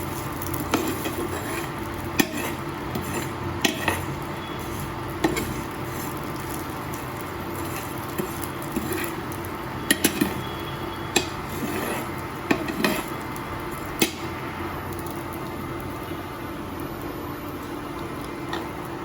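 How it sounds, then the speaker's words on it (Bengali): Vermicelli fries in a little ghee while a spoon stirs it, producing a low steady sizzle under repeated metallic clinks and scrapes against the pan, close and moderately loud throughout. "এবার সিমাইটা একটু ভেজে নিয়ে"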